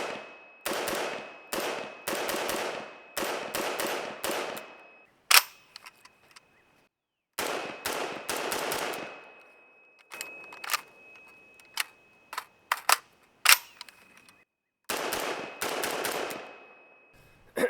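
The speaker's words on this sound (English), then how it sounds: "Let's take some shots" Bursts of rifle fire from a Century AP53, an HK53-pattern carbine, ring out at a range: several rapid strings of loud, sharp shots with brief pauses, then scattered single cracks and another volley, with no talking.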